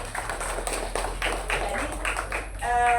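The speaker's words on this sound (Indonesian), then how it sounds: "tepuk tangan dulu" Children in a classroom clap their hands in a quick run of uneven, overlapping claps, with voices mixed in over the top.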